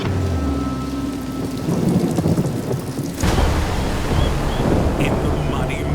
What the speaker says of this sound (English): Sludge has been drenched by a torrential summer storm.